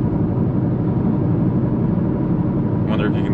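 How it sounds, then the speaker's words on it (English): Inside a moving BMW 330xi with a worn wheel bearing, a loud, steady low rumbling drone fills the cabin without break, and a voice speaks briefly near the end. "it sounds like the wheel's about to fall off"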